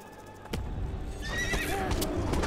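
A horse in the video game Age of Conan whinnies loudly amid a busy mix of noise and thuds, the neigh rising and wavering over a dense background.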